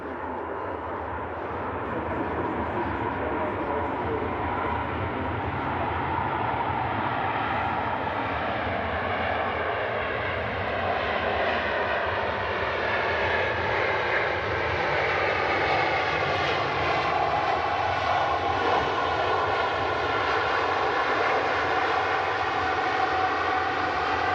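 A fixed-wing aircraft's engines roar steadily at Manchester Airport, a loud continuous drone whose pitch slowly rises as the plane passes nearby, with no voices over it.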